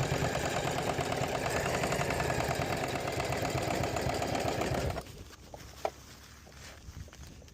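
A small machine works under heavy load on a boat, a steady buzzing mechanical drone that stops abruptly near the end, followed by light clicks and handling noise.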